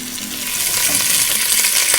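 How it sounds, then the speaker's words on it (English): Pork tail frying in a pot of hot oil for a Bavarian roast pork dish, giving a loud, steady, close sizzle with crackling spatter throughout. "We're just going to quickly fry this to golden brown color as well."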